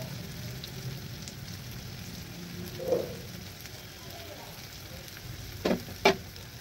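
Round slices of bitter gourd, soaked in lemon and salt, fry in a pan with a soft continuous sizzle, a few scraping stirs and two sharp clinks near the end, no talking.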